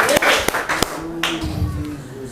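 A church congregation claps and cheers for Jesus during a sermon, with a few sharp, close claps at first that give way to a softer, lingering crowd noise.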